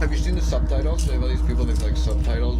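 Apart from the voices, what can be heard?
No distinct noise like a dog, phone or traffic.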